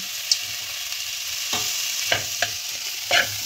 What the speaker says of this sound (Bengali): যাতে মটরশুঁটিগুলো এই আলু আর ওলকপির সঙ্গে মশলার সঙ্গে ভালোভাবে কষা হয়ে যায়।